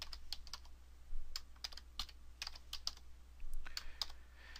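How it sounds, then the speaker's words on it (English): Rapid, uneven keystrokes on a computer keyboard as VBA code is entered, clicks close and distinct, some in quick bursts, with no talk over them. "you will click the keys for set pp app equals get object"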